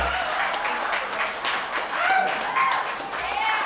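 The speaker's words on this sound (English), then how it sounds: "Everybody give a round of applause" Dense, sustained applause from a live audience welcoming a big band to the stage at the Sylvia Center in Bellingham, with a continuous wash of many hands, whoops and cheering voices mixed in.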